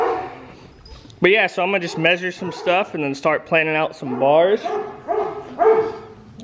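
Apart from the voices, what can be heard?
dogs barking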